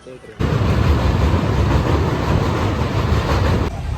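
A loud, steady rumble of a train starting to move on the rails begins abruptly and rolls on, with faint clatter and voices underneath.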